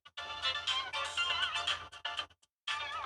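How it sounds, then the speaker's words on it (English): A phone ringtone from an incoming call chimes in a repeating melodic pattern, fairly loud and close, pausing briefly before starting again during a podcast interview. "Oh, somebody's getting a phone call."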